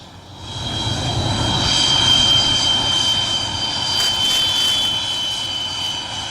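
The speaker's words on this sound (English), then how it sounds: "The farewell ceremony featured a spectacular flypast by MiG-21s, Jaguars and the Surya Kiran aerobatic team" Indian Air Force MiG-21 fighter jets pass overhead during a retirement flypast, a loud, sustained jet roar that swells and eases slightly, with no talk.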